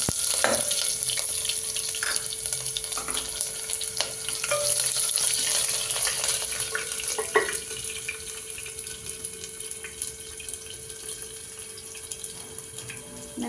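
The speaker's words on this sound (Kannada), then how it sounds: "ಒಂದು ಚಿಕ್ಕದು ಈರುಳ್ಳಿ ಕುಯ್ದಿಕ್ಕಿದ್ದೆ. ಇವಾಗ ಅದನ್ನು ಆ್ಯಡ್ ಮಾಡ್ತಾಯಿದ್ದೀನಿ." Small chopped onion frying in a pan for masala sambar, a steady sizzle with occasional stirring scrapes and brief clinks, close and moderately loud with no talking.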